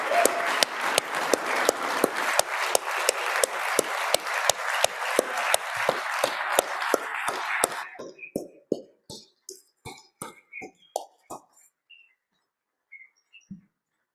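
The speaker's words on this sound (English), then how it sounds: "we just deserve a round of applause to our Appropriations Committee" Applause breaks out in a legislative House chamber during a floor session, honoring the appropriations committee: steady, full clapping for about eight seconds, then thinning to scattered individual claps that fade out.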